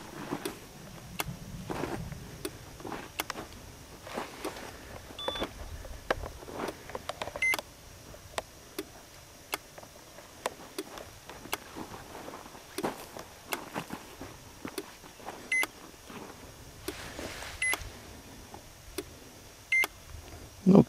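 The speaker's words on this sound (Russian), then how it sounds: "пошел стабильный сигнал на 15 метрах" A DEEPGEOTECH magnetometer sweeping toward a UAZ vehicle outdoors gives repeated short electronic beeps at irregular intervals, faint and close, with soft footsteps and light handling noise between them.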